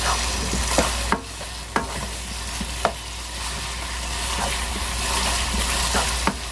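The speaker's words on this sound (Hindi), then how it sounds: "अभी हम इसमें थोड़ी देर भुनाई करेंगे इसकी" Minced chicken keema being stir-fried in a pan gives a steady close sizzle, punctuated by sharp, irregular spatula scrapes and clinks against the metal, with no talking.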